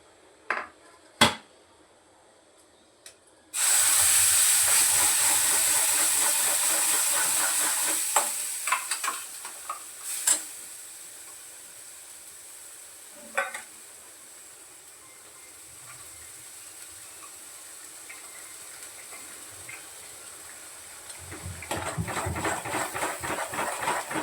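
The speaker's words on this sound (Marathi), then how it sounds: "फोडणी घाला डायरेक्ट थोडीशी हळद घातली" Tempering spices and turmeric hit hot oil for a village-style drumstick amti, bursting into a loud, sharp sizzle that slowly fades, punctuated by a few utensil clicks before the frying swells again.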